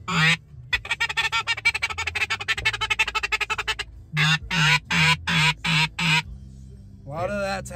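Duck call blown during a river duck and goose hunt in southern Kansas: a fast run of rapid quacks followed by a series of slower, louder, evenly spaced quacks, close and prominent, with a brief tail of another call at the end.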